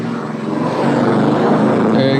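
A homemade bike synthesizer tone driven by a fan's RPM rises steadily as the fan spins up, a loud continuous whirring drone with a brief higher tone near the end.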